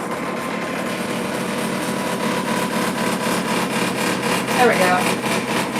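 A steady embroidery machine whir with a fast, even rattle from its hoop tray running through it, and a brief spoken remark near the end.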